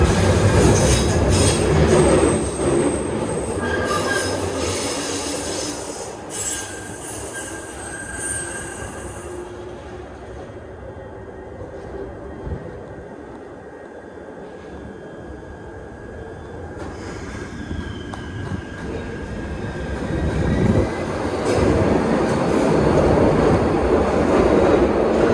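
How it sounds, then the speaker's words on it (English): Two old second-generation Glasgow Subway trains pull out of Bridge Street Station, a loud close rumble of rolling stock with squealing wheels and clattering rails that swells, eases mid-way and builds again as the trains depart. "And here are both of the trains departing from Bridge Street Station."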